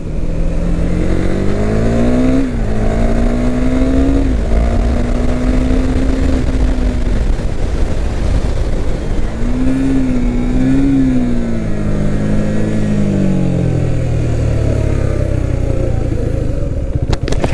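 Car engine droning steadily as engine braking drags it down from 90 to about 20, the pitch falling and leveling in a continuous loud hum with no talk.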